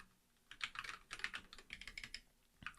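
Computer keyboard typing as code is entered, quick clustered bursts of crisp key clicks close by, alone without talk.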